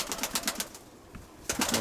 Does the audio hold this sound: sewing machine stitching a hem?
no